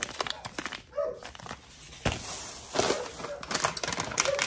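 A dog barks and whines outside a house, with several short bursts and whimpers spread across the moment at moderate distance and no talk over them.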